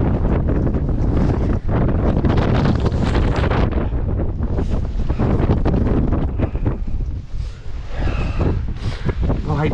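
Powerful storm gusts roar across an exposed Scottish mountainside on Meall Ghaordaidh during Storm Babet, loud and continuous with heavy buffeting on the microphone and no break.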